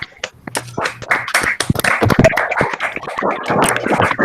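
Scattered hand clapping from participants over an online video call at the end of an academic lecture, uneven bursts of claps mixed with some voices and digital artifacts, fairly loud and close.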